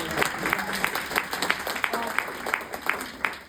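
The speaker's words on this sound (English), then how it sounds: "Definitely deserves applause." An audience at a United Nations panel on trafficking and deepfakes applauds for Urmila Shreshta, a moderate, fairly quiet patter of clapping with scattered sharper claps and faint voices underneath.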